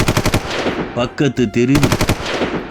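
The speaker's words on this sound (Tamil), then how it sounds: "ஒரே துப்பாக்கி சத்தம்" Rapid machine-gun gunfire rattles in fast, repeated bursts, breaking off briefly while someone speaks, then resuming loud and close.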